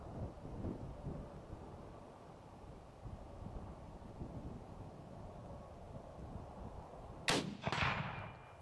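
A single sharp Mosin-Nagant rifle shot cracks out on a windy outdoor range, loud and near after a stretch of wind rumble, with a brief rolling echo trailing it.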